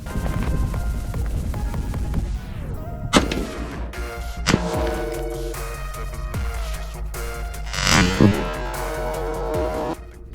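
An AR-15 style rifle fires single shots at bulletproof glass. A loud, sharp report lands about three seconds in, then further cracks and a lingering rumble follow.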